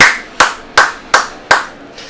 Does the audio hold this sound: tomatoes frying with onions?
no